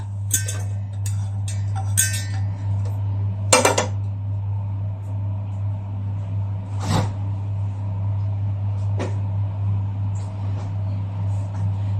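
A metal cooking pot for beef curry clatters and clinks against a surface a few times, sharp knocks over a constant low hum.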